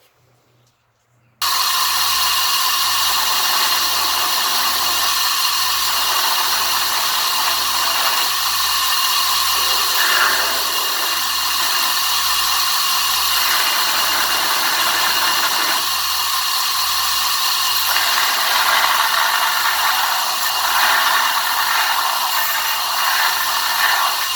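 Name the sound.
grinder shaping a kydex knife sheath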